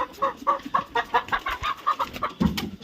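Several chickens cluck in quick repeated bursts while pecking at fresh vegetables, a busy flock heard close up with a brief scuffle near the end.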